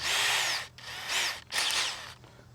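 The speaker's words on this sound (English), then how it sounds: "So I'm going to drill though on this one" A power drill whirs in three short bursts, revving up and easing off between them as it bores into wood for a Halloween witch hat craft, close by and fairly loud.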